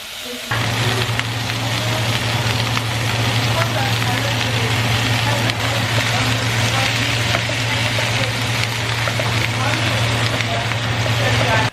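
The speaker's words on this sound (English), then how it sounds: "So we're gonna start cooking our chorizo." Chorizo frying in a pan over medium-low heat gives a steady, dense sizzle and crackle that runs unbroken from start to finish, close and loud, with a low steady hum beneath it.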